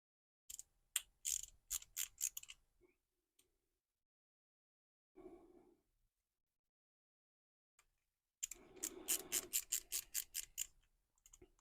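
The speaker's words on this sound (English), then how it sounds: "I'm going to use my little ratchet screwdriver again." A small ratchet screwdriver drives screws into a 1:8 scale Nissan Skyline R34 model, its fast ticking ratchet clicks coming in close bursts separated by quiet pauses.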